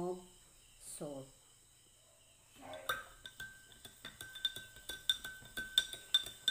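A spoon clinks against a glass as salt is stirred into water, with quick rhythmic taps that build in loudness, after a few spoken words.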